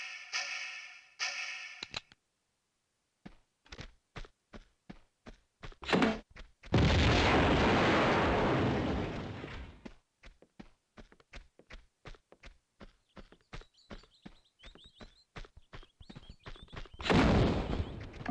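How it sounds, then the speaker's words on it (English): Grenade launcher blasts from Lara in Tomb Raider 3's Venice section: two long booming explosions separated by a quiet gap, with many short sharp taps of firing in between. "let's just see how much easier the Venice section is if you arm Lara with the grenade launcher"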